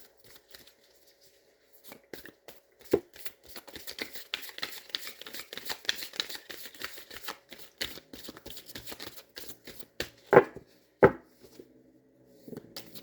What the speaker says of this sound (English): I find that with shuffling tarot